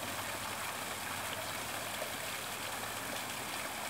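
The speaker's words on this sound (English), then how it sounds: "listen to the water" A flowing stream in a wooded setting gives a steady, continuous rush and babble of water. It sounds close and even throughout, with no voices.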